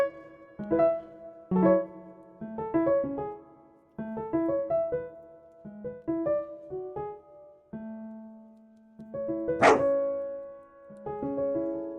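A dog barks in a video game, short yips and barks in bursts across the span, mixed with game music tones, with one sharp louder bark near the end.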